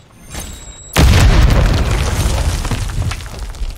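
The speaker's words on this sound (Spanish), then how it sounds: "¡Granada va!" A grenade explodes in Call of Duty Modern Warfare III: a sudden loud close boom after a brief quiet lead-in, followed by a long rumbling, crackling decay that lingers for several seconds.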